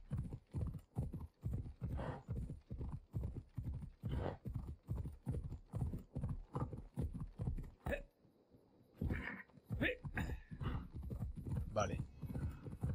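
A horse gallops in Assassin's Creed Odyssey with steady rhythmic hoofbeats that pause briefly, then resume. Someone talks over the hooves.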